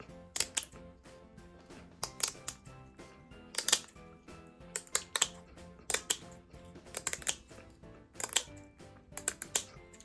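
Sharp, crisp snipping clicks come in quick irregular bursts, close up, as scissors cut through stiff, dry kombu seaweed, with no talking.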